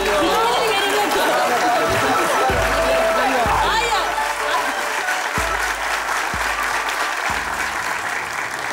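A television studio audience applauds on a comedy game show, a loud continuous clatter of clapping with some crowd chatter mixed in and several sharp thumps cutting through.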